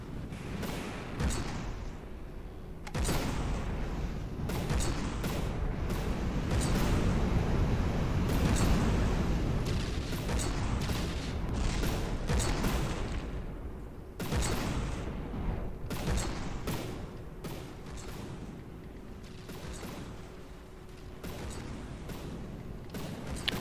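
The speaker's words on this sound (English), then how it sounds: "Just let the guns shoot as they will." Ship guns fire in From The Depths, a dense run of booming shots and sharp cracks layered over a steady mechanical hum, continuing loud and without letup for the whole stretch.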